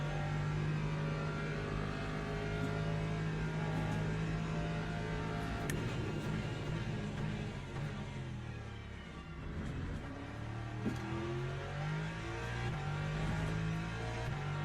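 A Lexus race car in Le Mans Ultimate drives laps, its engine holding a constant rev with shifting pitch through gear changes and braking, steady and fairly quiet throughout.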